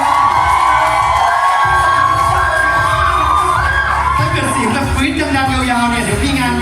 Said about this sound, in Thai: ขอเสียงปรบมือต้อนรับ